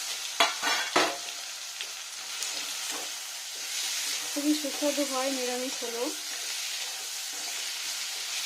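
Spices fry with cumin paste in a pan for a fenugreek-leaf dish, giving a continuous close sizzle with a few sharp stirring knocks, and someone speaks briefly over it partway through.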